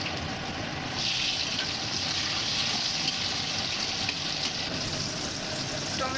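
Dried red chillies, bay leaf and cumin frying in hot oil for a jackfruit and prawn curry, a continuous close, even sizzling hiss without pause.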